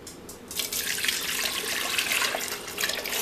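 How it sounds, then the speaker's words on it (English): Tap water runs steadily into a saucepan of beets, a close, splashing stream with light drips and no talk. "Put them in a saucepan and then cover them in water"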